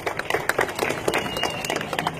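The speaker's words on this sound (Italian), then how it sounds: "Un grandissimo applauso alla nostra mega orchestra." Italian festival audience applauding the orchestra, with scattered, uneven claps over a busy background of crowd noise and faint voices.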